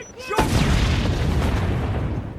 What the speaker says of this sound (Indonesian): Saat polisi akan menangkapnya, tiba-tiba orang itu meledakkan dirinya.